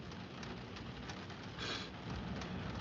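Rain falls steadily on surfaces outdoors, a faint, even patter with no voices over it.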